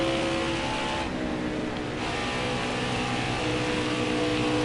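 Race trucks running the Truck Series at Texas Motor Speedway in NASCAR Heat 4, a dense continuous engine roar with a brief dip as traffic passes, loud and unbroken.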